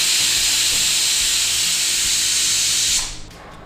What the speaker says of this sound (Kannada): ಸೊ ವಿಸಿಲ್ ಅಂತೂ ಕೂಗ್ತಾ ಇದೆ